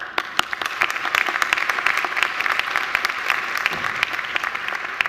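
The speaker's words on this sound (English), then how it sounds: "Please give yourself a round of applause." A graduation-ceremony audience at Macquarie University applauds the graduates: dense, steady clapping from a large crowd with sharp individual claps popping out, sustained at an even level throughout.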